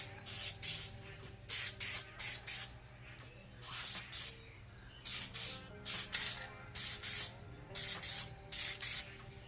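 A spray gun lays a fifth coat of paint on a Ford F150, hissing in short, regular bursts with brief gaps between passes, close and fairly quiet with no talk.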